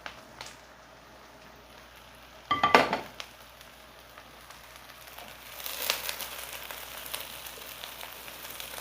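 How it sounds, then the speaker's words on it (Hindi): Okra and onion fry in oil for bhindi masala, giving a low, steady sizzle. A loud clatter of stirring or ingredients dropping into the pan comes early, and the hiss swells louder later on. "तो इस स्टेज पे हम भिंडी ऐड कर देंगे ताकि प्याज के साथ बाकी की हमारी भिंडी भी फ्राई हो जाए।"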